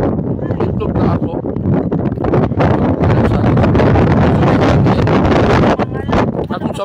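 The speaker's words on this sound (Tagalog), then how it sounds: "kay kusog kong hangin" Strong wind at the Cliffs of Moher in Ireland buffeting the microphone, loud gusty roaring and rumbling throughout with rustling bursts, and people talking faintly beneath it.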